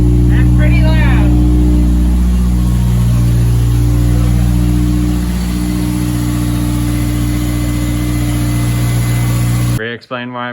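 A straight-piped Honda RSX Type-S exhaust idles loudly with a deep droning rumble and rises in brief revs, with people talking over it near the start, before the engine cuts off near the end into silence and a voice.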